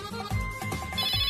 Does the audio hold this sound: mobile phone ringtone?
yes